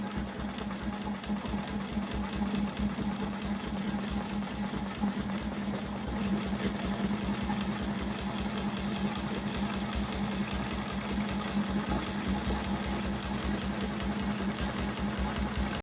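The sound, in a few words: sewing machine quilting with a Westalee ruler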